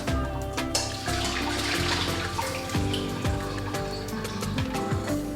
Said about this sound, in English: what I like to do also is just run some cold water through them